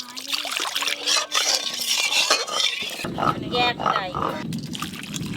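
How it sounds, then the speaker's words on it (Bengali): Water from a rinsed wok splashes into simmering lentil dal with the clatter of the pot and a utensil, under a voice speaking Bengali. "কড়াটা ধুয়ে আর একটু জল ডালেতে দিয়ে দেব।"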